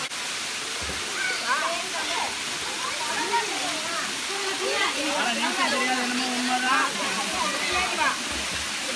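Steady broadband rush of the Kattazhagar temple waterfall in Tamil Nadu, reached after a forest walk, filling the whole scene at constant loudness while people talk over it throughout.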